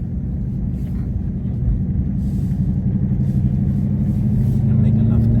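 A Ford Mustang GTD drives on the road, heard from inside the cabin. A steady low engine rumble grows slightly louder partway through, with people talking over it.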